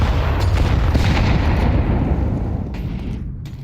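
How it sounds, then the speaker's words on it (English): Grenades bursting in a Counter-Strike match during an ESL Pro League game between Aurora and Legacy, a loud sustained rumbling blast that fills the clip and slowly fades toward the end. "Early nades coming in."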